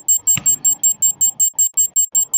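A rapid series of about a dozen shrill electronic beeps pulses in an even rhythm, with faint background noise and a soft thump beneath.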